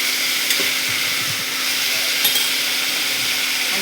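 Potatoes and cabbage sizzle steadily in a pan with a soft, continuous frying hiss, a few light scrapes and clicks of stirring rising briefly above it; no one speaks.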